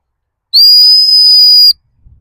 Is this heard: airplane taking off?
no